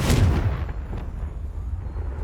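A Confringo fire spell explodes in Hogwarts Legacy, giving a loud opening boom that fades quickly into a rumbling tail with low background noise.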